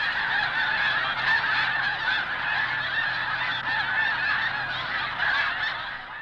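A large flock of snow geese honks continuously in flight over a wildlife refuge, a dense chorus of overlapping calls that stays loud before fading slightly at the end.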